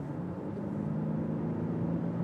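The diesel engine of an Audi A6 drones steadily with a low, grumbly rumble while accelerating, heard alone at moderate loudness.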